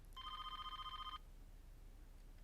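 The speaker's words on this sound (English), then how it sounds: "Are you gonna answer your phone or not?" A phone ringing in the Trauma Team video game: a single electronic ring of about one second, a clear tonal burst standing alone over quiet background, then silence.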